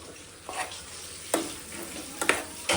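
Chicken curry sizzles in a pan on a home stove, a steady close frying hiss broken by a few sharp spoon-scraping stirs, with no one speaking.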